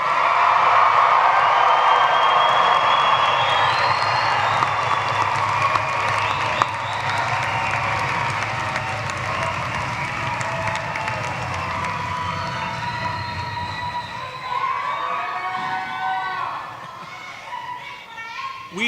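A graduating class at a 2023 commencement in Gentile Arena makes a loud, sustained roar of cheering, whooping and applause that fills the hall and fades a little toward the end.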